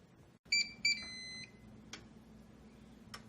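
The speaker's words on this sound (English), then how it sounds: "the Optigrill is going to warm up and it's going to beep when it's done" A T-Fal OptiGrill sounds its preheat alert, two short electronic beeps followed by one longer sustained tone, clear in a quiet kitchen with faint clicks afterward.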